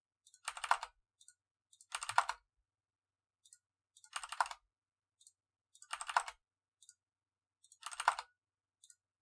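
Bursts of clicky computer keyboard typing come in five evenly spaced flurries about two seconds apart, with brief isolated key taps in between, close and crisp in an otherwise quiet room.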